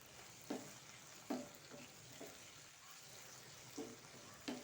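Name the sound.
washed dried shrimp sautéing in a pan for tomato curry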